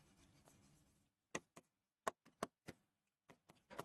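Pen or chalk writes numbers during a maths lesson, a series of short, close scratching strokes in an uneven rhythm after a brief quiet stretch.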